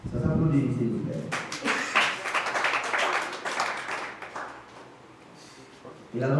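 Audience at a Rotary club ceremony clapping in a burst of applause that swells and then fades, with someone speaking before it and again as it dies away.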